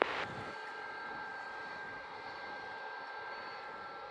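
An airplane at Montego Bay airport, Jamaica, gives a steady broadband jet roar with a faint whine, constant and fairly distant, after a brief louder burst at the very start; no one speaks.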